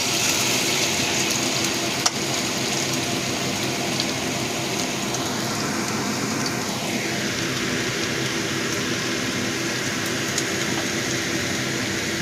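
Vegetables sizzle in a pan for homemade chowmein with ginger and garlic, a steady close frying hiss that runs on without pause and without talk, with a kitchen chimney fan running.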